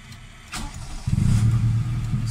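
A Toyota Corolla engine cranks and catches, then revs up into a loud, close, throaty idle that holds steady for the rest of the short stretch.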